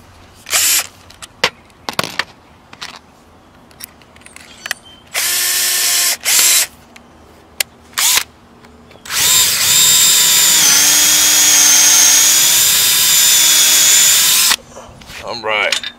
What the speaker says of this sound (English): I need to drill a little bit deeper.